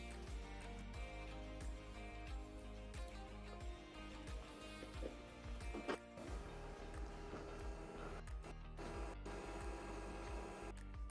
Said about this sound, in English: One single piece of paper left in the printer.